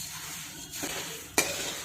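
Puffed rice chivda is stirred in a hot pan with the gas off, making a brief, close, dry rustling scrape that ends in a sharp metallic clink.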